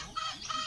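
Free-range chickens on a barangay farm, kept mixed with turkeys and other fowl, cluck softly in two short bursts against a faint, steady background.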